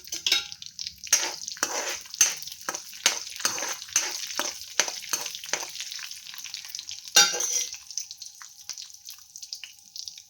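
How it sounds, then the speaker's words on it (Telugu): Tempering seeds and onion pieces frying in hot oil, a bright sizzle broken by repeated bursts of stirring that crackle up and settle, fading quieter toward the end. "కొంచెం వేగనిచ్చి తిరగమాత గింజలు, ఉల్లిపాయ ముక్కలు వేసుకున్నాను."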